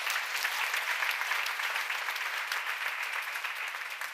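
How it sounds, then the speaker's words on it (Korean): A seminar audience in a Korean church claps together during a Bible teaching session on Acts, producing dense, even applause that holds at a steady level from start to finish. "박수 쳐."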